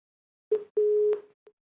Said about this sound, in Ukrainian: Сорвался, к сожалению, телефонный звонок.